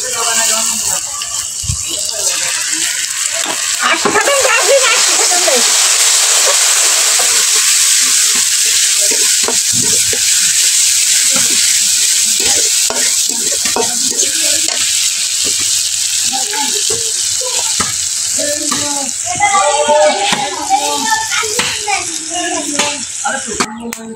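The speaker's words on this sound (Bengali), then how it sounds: "তো এদিকে আলু কষাই হচ্ছে পানি দিয়ে দিচ্ছি একটু" Potatoes sauté in a pan on a home stove, sizzling loudly while they are stirred and scraped close up. Someone talks over the cooking, and a hiss of steam suggests water being added.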